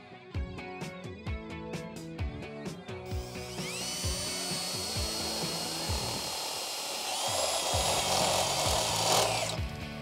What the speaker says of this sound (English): We're going to drill out the 3 holes, one in the front, one in the back, and then one up at the top here.